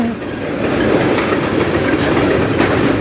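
A freight train rolls past on the Strathroy Sub, a loud, steady, close rumble with rhythmic wheel clatter and rail noise that runs unbroken for the whole stretch.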